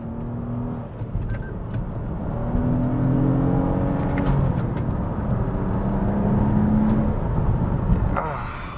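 Toyota Camry TRD V6 sedan accelerating hard with wheelspin, a steady loud engine drone rising in pitch from inside the cabin, continuous throughout with no talk.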